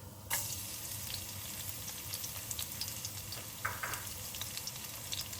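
Garlic sizzling in hot oil in a pan for pork menudo, a faint, steady crackling hiss close by with a few small pops and clinks.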